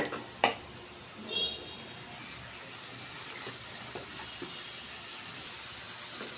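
Masala of coriander powder and salt with a splash of water is stir-fried in a pan, giving a soft, steady sizzle with a couple of brief clinks early on.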